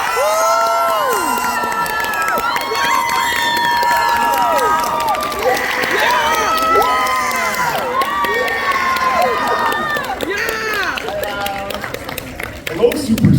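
A convention crowd at Fan Expo Philadelphia cheers, whoops and shrieks loudly for a guest, with excited high voices overlapping continuously and some clapping, the roar easing slightly near the end.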